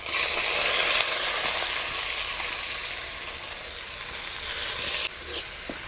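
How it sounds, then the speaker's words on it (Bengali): Steady sizzling as washed moong dal fries with tempered spices in a pan, with a few scraping stirs and small bumps as the dal is moved around. "মুগ ডালটাকে নেড়ে চেড়ে অল্প ভেজে নেব।"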